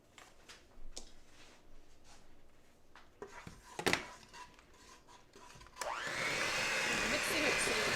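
Electric hand mixer whirring through pecan pie cheesecake batter, starting abruptly after a few clinks and kitchen clatter and running steady and loud to the end, with a voice chatting earlier.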